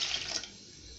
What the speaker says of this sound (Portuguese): Vamos colocar a água morna,